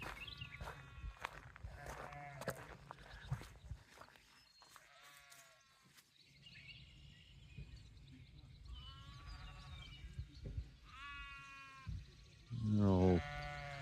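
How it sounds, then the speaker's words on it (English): Sheep bleat repeatedly from a pen at an Amish garden center, several wavering calls at middle distance, ending with a loud, close bleat, over soft outdoor background noise. "You can hear the sheep down there."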